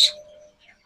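Lutino red-eye lovebirds kept as breeding pairs give a sharp, brief chirp up close, followed by fainter thin tones that fade away.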